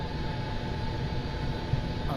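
Steady whining turbine drone of a UH-1 Huey helicopter engine running up in a VR flight simulator game, continuous and even, with no talk.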